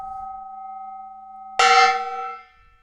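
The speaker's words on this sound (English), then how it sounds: "And you know what? I'll do a third gong." A decorative gong is struck once in a workshop, a sharp loud clang that rings out bright and shimmering before fading over about a second, after a steady electrical hum.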